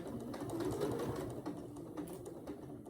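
A sewing machine fitted with a quarter inch foot runs a small straight stitch, a steady close mechanical whirring hum that holds for the whole stretch with only slight dips.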